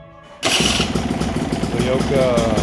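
Gas Gas 250cc two-stroke motorcycle from 2005 starts up: a short burst of the starter, then the engine catches and runs loud and steady close by, with someone speaking briefly over it.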